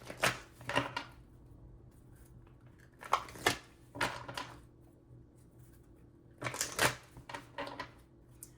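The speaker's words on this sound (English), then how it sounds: "Oh my gosh, I just shuffled the wrong deck." Tarot cards shuffled by hand in a few separate bursts of crisp riffling and slapping, close and fairly quiet, with short pauses between each round.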